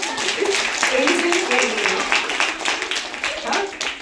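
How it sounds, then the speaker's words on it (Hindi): An audience at a program for blind women claps loudly in uneven bursts that swell and fade, with voices mixed in among the applause. "तालियां"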